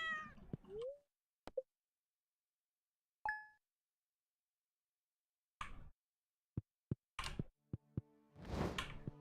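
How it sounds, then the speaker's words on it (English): Cat meowing in the farming video game Stardew Valley: a short meow near the start, then scattered game ticks, dings and clicks with quiet gaps, all fairly faint. "Cat."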